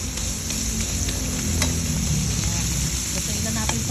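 Ground meat frying in a pan for a sautéed chayote dish, a dense continuous sizzle and crackle heard close up with occasional light utensil ticks, no talking.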